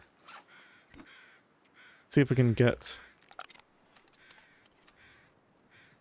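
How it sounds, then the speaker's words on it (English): Distant crows cawing in the video game The Long Dark, several faint rasping calls spread through the stretch while someone talks briefly in the middle. "I can hear the crows."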